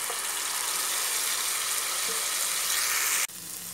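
Ginger frying in oil with tomato and garlic paste sizzles in a continuous, bright hiss, then shifts abruptly near the end to a softer sizzle.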